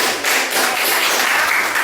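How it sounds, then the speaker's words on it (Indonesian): A school class claps together during a lesson, a loud, dense burst of hand clapping that runs unbroken for a couple of seconds with no talking. "Tepuk tangan sekali."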